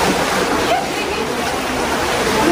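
Mountain water gushes and pours in a steady, loud, hissing rush at Robbers Cave near Dehradun, filling the scene without pause.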